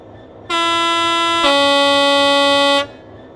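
A loud two-tone horn blast from a Class 800 train in a train video game starts abruptly, shifts pitch partway through and then cuts off, sounding alone against a low background rumble.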